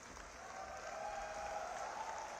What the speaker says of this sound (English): let's clap for the occasion